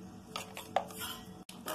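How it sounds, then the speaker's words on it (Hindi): Jackfruit kofta batter with gram flour, ginger, garlic and spices being mixed in a bowl, with a few light clinks and scraping taps of a utensil against the bowl, quiet and close. "इसको हम लोग इस तरह से मिक्स करेंगे।"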